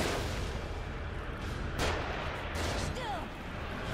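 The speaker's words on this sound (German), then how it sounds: "Sie schießen von unten." Enemy gunfire in the survival horror game The Evil Within, dense crackling shots and booms rolling continuously over a steady noisy game background, with a few sharper bursts standing out.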